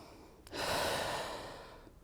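One deep breath is drawn in and slowly let out during a frog mobility stretch, close and soft, a single airy swell.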